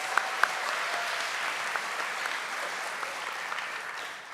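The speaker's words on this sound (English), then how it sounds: "So please give him a huge round of applause and give Automation Direct a huge round of applause" An audience at a FIRST robotics competition kickoff ceremony in Atlanta, Georgia claps in a continuous, even roar of many hands, holding steady before tapering slightly at the end.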